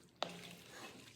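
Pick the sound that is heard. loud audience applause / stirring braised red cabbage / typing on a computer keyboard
stirring braised red cabbage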